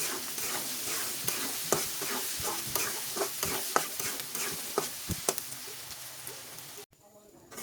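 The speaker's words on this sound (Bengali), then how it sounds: "এগুলোকে খুব ভালো করে ভেজে নিচ্ছি একদম গোল্ডেন ব্রাউন হওয়া পর্যন্ত এগুলোকে ভাজতে থাকবো" Onions, chillies and ginger with a little salt fry in oil until golden brown, a continuous sizzle punctuated by regular spatula scrapes and taps against the pan, ending abruptly.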